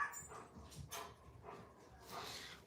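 Pet dogs barking and whimpering indoors, several faint, soft yips and whines spread across a few seconds with no talking.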